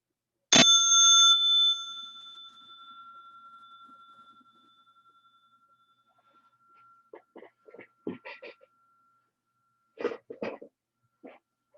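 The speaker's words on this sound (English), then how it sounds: "on the final sound of the bell, we'll bow to one another and then take our seats again" A single meditation bell is struck once to close a sitting, ringing clearly and decaying slowly over several seconds, followed by quiet rustling, shuffling and a few coughs as people stir.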